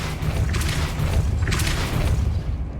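A Depulso spell cast in the Hogwarts Legacy video game: a sustained, low, booming rumble with two brief surges of whooshing force partway through. It stays loud throughout, with no voices.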